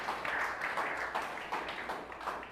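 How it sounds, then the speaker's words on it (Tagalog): Church congregation clapping for Jesus during a Sunday service, a fairly soft, rhythmic run of claps in an even beat, somewhat distant and roomy. "The best po ulit palakpak para kay Jesus"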